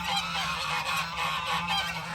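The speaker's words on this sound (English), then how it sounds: "How are these geese treating y'all?" A flock of geese honks continuously nearby, overlapping calls forming a steady noisy chorus with no talking.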